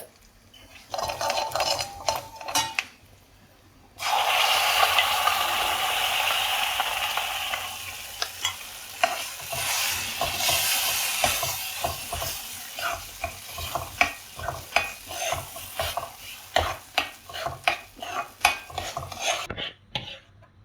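Onion chutney with curry leaves is stirred in a pan over heat, a steady sizzle of frying under repeated scraping and clinking of a spoon against the pan, close and continuous with no speech.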